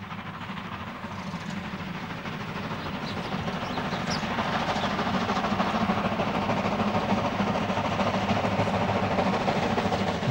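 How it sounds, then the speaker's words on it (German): Class 62 steam locomotive 62 015, built in 1928, running on an excursion through Saxon Switzerland: a loud, steady rumbling roll of the train with rail clatter that grows slightly louder as it passes. "Es ist eine Lok der Baureihe 62 und sie ist die einzig verbliebene ihrer Art."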